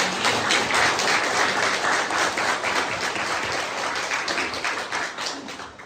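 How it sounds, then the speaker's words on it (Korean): Sustained, loud applause from a church congregation, a dense wash of clapping that holds steady for several seconds before easing slightly at the end. "하나님께 감사와 영광의 박수 먼저 드리겠습니다"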